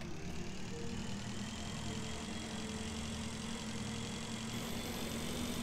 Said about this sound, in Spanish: ahora con la motito voy bastante rápido